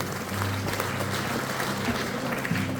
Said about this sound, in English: would you give a huge big round of applause to Mick Foster, Tony and Alan